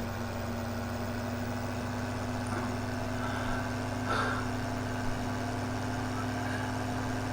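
A large tractor engine idles steadily with a low, even hum and faint mechanical vibration, continuous and unchanging with a couple of soft clicks in the background.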